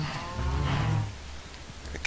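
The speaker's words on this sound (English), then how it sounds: "Cow, stop making so much noise" A cow moos in the Minecraft Tekkit modded game, giving one low, drawn-out call that fades into quiet background noise, with no talking.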